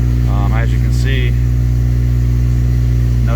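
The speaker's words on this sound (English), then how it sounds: "You can hear the heat shield rattling a little bit, but once it warms up, it'll quiet down." A swapped K20/K24 engine in an 8th-generation Honda Civic Si idles steadily with a loose heat shield rattling, close and loud, while someone talks over it.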